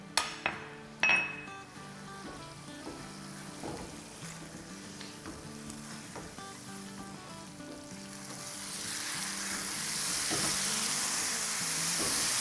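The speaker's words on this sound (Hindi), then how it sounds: "तो फ्लेम बिल्कुल हाई रख के अच्छे से 5 से 6 मिनट तक हमें भुनाई करनी है।" Batt karahi, a spiced tripe dish made for Bakra Eid, sizzles and fries on a high flame, a steady loud crackle with a few sharp clinks of a spoon against the pan early on, growing hissier toward the end.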